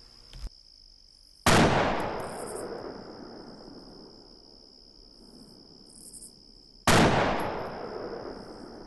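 Two sharp, loud sniper rifle shots in Half-Life 2, about five seconds apart, each followed by a long rolling echo, over a steady high insect-like chirp.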